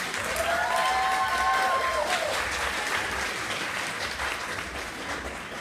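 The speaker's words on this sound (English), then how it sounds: "Let's give her one big round of applause." Sustained audience applause fills a conference opening plenary hall, steady and dense throughout, with a brief tonal sweep near the start.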